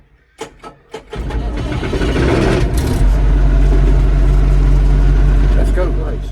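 A Massey Ferguson 4445 (Valtra) tractor, in for a new clutch, cranks over after a few short clicks and fires up, then settles into a loud, steady diesel rumble close by.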